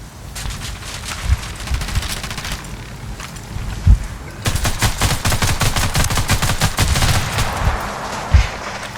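Dense automatic gunfire in Ghost Recon Wildlands: rapid rattling bursts fire almost continuously, loud and close, with a brief lull before heavier volleys resume, plus occasional heavier thuds.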